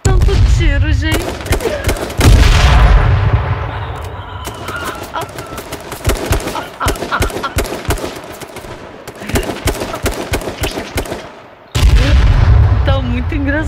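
Rapid automatic gunfire and heavy booms crackle in dense, loud bursts during online battle-royale play in H1Z1, continuous for most of the stretch with brief pauses between volleys.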